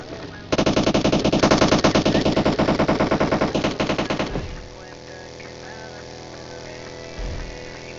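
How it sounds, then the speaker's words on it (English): Rapid automatic gunfire from an enemy player in PUBG Mobile, a loud sustained burst of fast shots lasting several seconds that stops abruptly, leaving quieter game ambience and a brief thump near the end. "there's a guy shooting at us"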